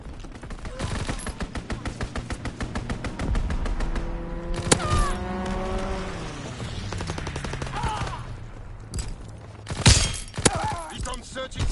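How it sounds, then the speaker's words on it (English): Rapid gunfire from a strafing run in Call of Duty WWII rattles in dense bursts, with shattering impacts and a swooping engine tone, a few heavy thuds near the end, all loud and close under game voice callouts. "Strafing run inbound."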